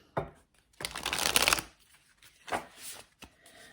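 Tarot cards being shuffled close up in a quiet room: a short riffle, then a longer, dense burst of papery flutter, and a final brief shuffle with soft taps between.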